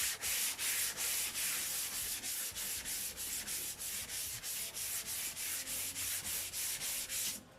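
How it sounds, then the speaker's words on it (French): 320-grit sandpaper rubbed by hand over car paint in quick, even back-and-forth strokes, a loud rhythmic rasping close to the ear with no talk. "Et on va poncer."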